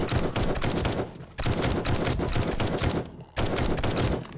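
Rapid bursts of automatic gunfire from the zombie survival game 7 Days To Die, Britannia Of The Dead UK map, loud and close, firing in three sustained volleys broken by short pauses.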